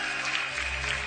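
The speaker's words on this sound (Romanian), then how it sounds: "Aplauze" A comedy show audience applauds a comedian with steady, full clapping that fills the room without a break.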